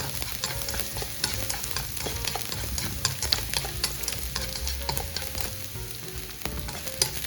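Button mushrooms stir-fry with garlic in a hot pan, giving a steady loud sizzle broken by repeated scraping and clacking of a utensil stirring against the pan, with no talking.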